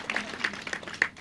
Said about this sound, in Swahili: Pigieni huyu mama makofi.